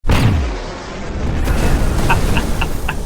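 A deep boom bursts at the start and rolls into a long rumbling roar, with a few faint metallic clinks near the end.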